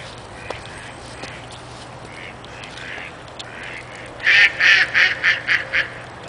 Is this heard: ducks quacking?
yes